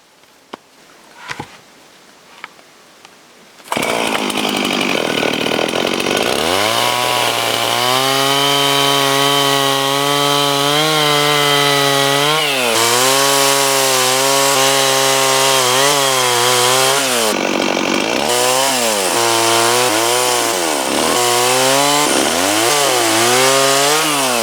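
A chainsaw cuts bevels into logs for an Alaska log cabin, starting after a few knocks and then running loud and close with a steady roar, its pitch rising and dropping as the engine bogs into the wood and revs back up.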